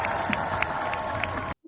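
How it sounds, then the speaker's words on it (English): A large crowd at a political rally claps and cheers after a speech, a dense continuous wash of applause with scattered shouts, then an abrupt cut to near silence. "look at those hordes of useful idiots clapping"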